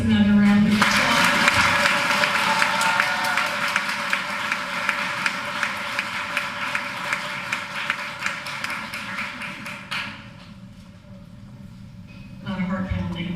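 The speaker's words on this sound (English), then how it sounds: "Let's give our finalists another round of applause." An audience at a Teacher of the Year ceremony gives finalists a long round of applause, dense steady clapping that fades after about ten seconds, then rises briefly again at the end.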